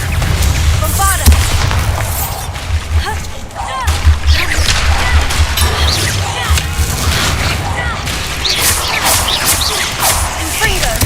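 Fiery spell explosions (Confringo and Bombarda) in the Hogwarts Legacy video game: a dense, loud run of booms and crackling blasts with a steady low rumble, and character voices calling out over the action.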